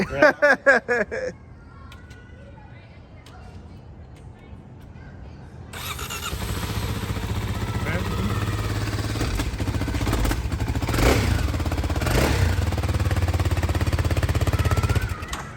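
A small 300cc motorcycle engine cranks and starts, then idles and revs with a steady rough drone that swells a couple of times, following brief talk at the start.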